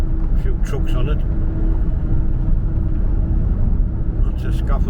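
Trucks roll along the A1 dual carriageway in a steady, dense road rumble with tyre and engine noise, heard from close by without breaks.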